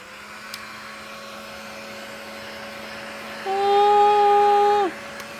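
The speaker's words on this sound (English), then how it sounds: "take a heat gun" Heat gun switched on over wood veneer, a steady whining electric blower roar that starts midway, holds about a second and a half, then cuts off, close by over faint background hum.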